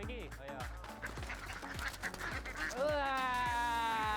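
Ducks quack inside a pen, a busy overlapping chorus of nasal calls close by, rising into loud sustained quacking near the end.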